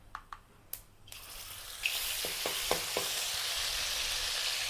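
Cumin seeds dropped into hot oil in a kadhai for a Maharashtrian sesame brinjal curry: a few light taps, then a sudden bright, loud sizzle that hisses on steadily, with no talking.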